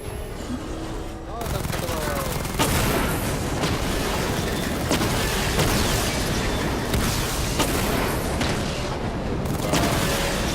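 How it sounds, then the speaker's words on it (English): Batwing missile barrage explosions in Batman: Arkham Knight, a steady dense rumble of blasts and sharp impacts running throughout, with voices speaking over the noise. "Charge the missile barrage to level 2 to destroy up to 4 targets at once"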